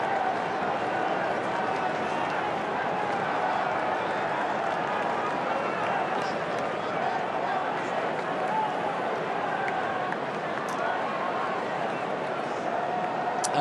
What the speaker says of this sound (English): They stand and applaud.